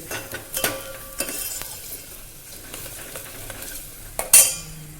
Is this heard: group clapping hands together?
no